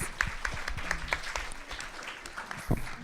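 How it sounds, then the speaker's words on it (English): Brief scattered audience applause in a meeting room, fairly faint and uneven, with a few distinct claps and room noise. "Give them all a round of applause."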